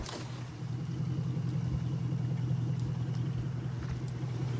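A truck engine idles at a traffic stop, a steady close low rumble that rises slightly at the start and holds even throughout.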